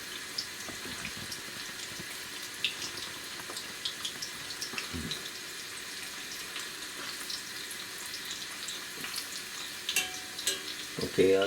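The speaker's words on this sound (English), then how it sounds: "You should fry it for 3 to 5 minutes on medium heat." Crispy baby corns frying in a pan over medium heat, a steady soft sizzle and crackle at close range with a few clinks and stirring noises.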